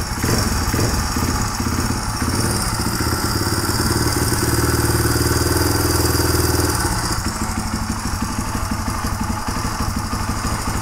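A motorcycle engine with backfiring and erratic-idle problems idles on choke while warming up, a steady loud mechanical clatter close by that shifts pitch slightly partway through.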